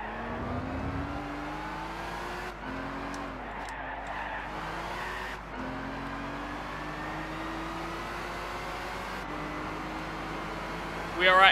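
Engine and tire noise from a car in the Gran Turismo 6 video game at the Goodwood Festival of Speed, with a sustained engine drone shifting through gears, skidding tire squeal and a sharp burst at the end.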